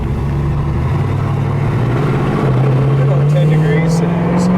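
A low-mileage 1976 Pontiac Firebird with a rebuilt engine driving, its engine tone rising steadily as it pulls, heard from inside the car with a voice talking over it.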